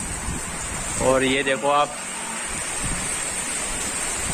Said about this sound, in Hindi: दोस्तों काफी तेज हवाओं के साथ बारिश हो रही है, यहाँ अंदर तक आ रहा है पानी।